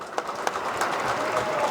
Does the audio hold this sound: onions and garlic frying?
no